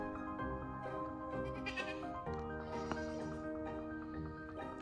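Goats bleat repeatedly nearby, overlapping harmonic cries from several animals in a steady chorus without talk.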